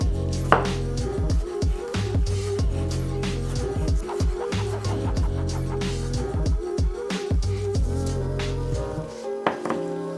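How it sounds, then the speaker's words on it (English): A knife chops vegetables into small squares for a shrimp cocktail, making quick, irregular taps against a cutting board beneath steady background music. "You're gonna chop all your veggies into small squares."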